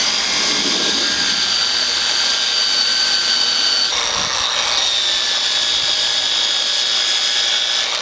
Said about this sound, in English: Get to sanding and cutting.